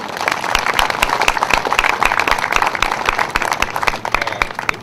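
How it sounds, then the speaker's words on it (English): A crowd at a community Arbor Day celebration gives a brisk round of applause, dense overlapping hand claps sounding close and loud for a few seconds before starting to thin out. "Round of applause, please."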